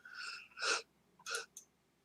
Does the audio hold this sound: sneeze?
yes